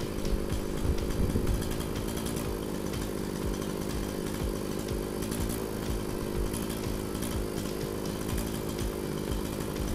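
A STIHL two-stroke grass trimmer engine runs at a steady idle on 40:1 mixed fuel, a continuous buzzing drone close by with no change in pitch or level throughout.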